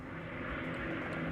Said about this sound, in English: what a cool plane.